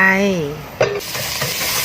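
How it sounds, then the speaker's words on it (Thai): Pounded Thai panang curry paste drops into a little hot oil in a pan with a sudden loud sizzle, followed by continuous frying and stirring scrapes. "ตั้งกระทะใส่น้ำมันเล็กน้อย ใส่เครื่องที่เราโขกลงไป"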